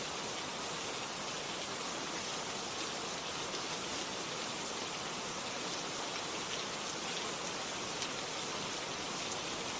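Steady rain falling in a continuous, even hiss, with the patter of drops on surfaces and no breaks or voices, filling the whole stretch at a constant level.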